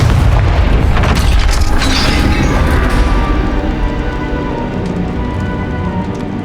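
A loud, booming fire-spell explosion from the Hogwarts Legacy video game bursts at once and fades into crackling, rain-like debris over several seconds.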